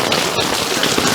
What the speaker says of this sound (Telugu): కొద్దిసేపటి క్రితం వర్షం ప్రారంభమైంది. ఆ వర్షం ఇంకా కంటిన్యూ అవుతుంది.